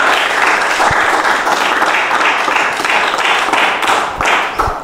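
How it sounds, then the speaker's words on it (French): A room of people applauding together, dense and loud steady clapping that carries on for several seconds with a few sharper individual claps near the end. "on applaudit, on applaudit, on applaudit"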